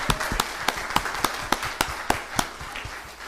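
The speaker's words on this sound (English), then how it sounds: "can we have a round of applause for our tech crew?" A church congregation at a worship service claps for the tech crew, a loose, sparse round of individual claps with distinct hand strikes ringing out in a reverberant room, fairly close and without talk.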